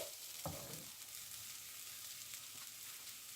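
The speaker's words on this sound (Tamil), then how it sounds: "நான் இப்போ இதை கொஞ்சம் இந்த மிளகாத்தூள் வாசனை போகிறதுக்காக கொஞ்சம் நேரம் இப்படி சட்டியில் அப்படியே சூடு பண்ணிட்டு" Chili powder heating in a pan for a Jaffna-style dried fish curry gives a soft, steady sizzle with a brief stir or scrape near the start, close and quiet with no talk.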